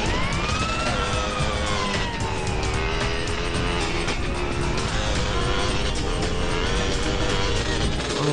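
Police car sirens in GTA San Andreas chasing the player, loud and continuous wailing tones over constant engine and traffic noise.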